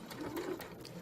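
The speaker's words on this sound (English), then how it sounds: "I'm going to sew that 3/8 inch seam allowance" A sewing machine stitches a 3/8 inch seam allowance on fabric for a French seam, a steady continuous motor whir at close range with no talking.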